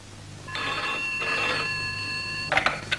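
Telephone ringing indoors in a 1985 Hindi film scene, a clear close electronic bell with steady harmonic tones in two long bursts, followed by a brief clatter as the receiver is lifted.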